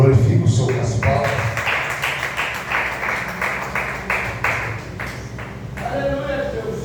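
Church congregation clapping in rhythm during a Portuguese-language service, a steady series of bright claps at an even beat, with a voice speaking over the start and end.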